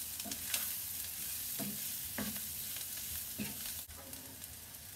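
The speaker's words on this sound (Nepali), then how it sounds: "थोरै धुलो खोर्सानी हालेर यसलाई केही बेर चलाउने" Egg and potato curry with chili powder being stirred in a pan: a handful of separate scraping strokes over a steady, close sizzle, with no voices.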